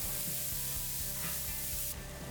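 Cabbage and vegetables for momo filling sauté in a pan, giving a steady faint sizzle with soft rhythmic scraping from stirring and a brighter hiss near the end, with no talk.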